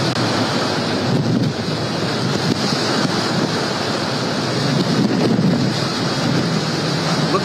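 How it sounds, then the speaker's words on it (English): Strong hurricane wind roars continuously with heavy buffeting against the microphone, mixed with the rushing wash of storm-surge water, loud and unbroken throughout. "Look at that wind."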